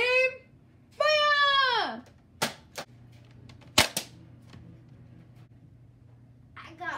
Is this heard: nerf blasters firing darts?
yes